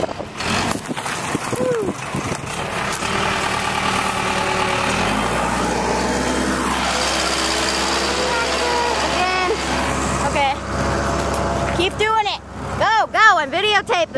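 A tractor engine runs steadily at close range, a continuous low rumble with a rising mechanical drone partway through, while people talk over it.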